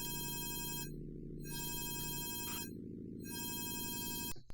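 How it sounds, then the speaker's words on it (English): An electronic phone ringtone from a Sega racing video game plays at the end of a race, repeated warbling trilled bursts over a bright synth music backing, loud and close, cutting off abruptly. "I don't know what the point of the phone call is at the end of every race. It sounds like a cell phone or something."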